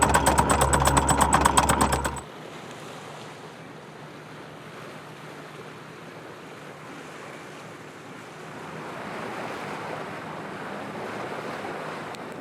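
Sea swell and wind on a sailing boat in the winter Mediterranean: a loud burst of engine-like rumble gives way to a steady wash of waves and gusting wind noise that slowly builds, with no voices.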